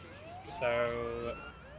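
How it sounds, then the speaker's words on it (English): Ambulance siren in the paramedic simulator game Ambulance Life, a rising and falling electronic wail that swells loud midway and then eases, heard under someone talking. "So put on the siren"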